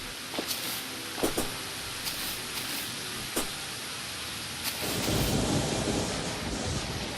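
Rain falls steadily in the video game Terraria, with thunder cracks booming at intervals, then the downpour grows heavier and denser toward the end, with no talking.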